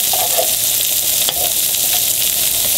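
Yellowtail snapper fillets sizzle steadily in a hot pan, a dense continuous hiss with faint crackles and one small clink midway, close and alone with no talking.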